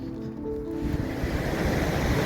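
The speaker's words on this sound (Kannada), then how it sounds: "ಶೇಷನಾಗ್ ಅಂತ ನದಿ ಏನಿದೆ ಅದು ಹರಿದ್ಕೊಂಡು ಬರೋಂಥ ಸ್ಥಳ ಇದು" The Sheshnag river flowing through Betaab Valley in Kashmir makes a steady, full rushing wash that swells in after a quieter first moment and then stays constant and close.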